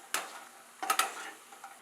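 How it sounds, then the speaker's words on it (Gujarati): Fox nuts (makhana) frying in hot ghee in a pan for a festival sweet: soft continuous sizzle with a few brief stirring scrapes and clinks, close and fairly quiet, no voices. "આપણા મખાના પણ તળાઈ ગયા છે"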